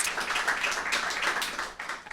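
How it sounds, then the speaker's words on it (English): Dense, lively clapping from an audience giving a round of applause to guest Allison Morrison, founder of Ralli, sustained for about two seconds before thinning slightly at the end. "let's do another round of applause for Allison"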